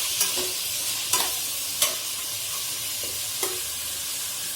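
Chopped tomato frying in a pan gives a steady sizzle, with a spoon stirring through it in four or five distinct scraping strokes spaced about a second apart, close by and without talk.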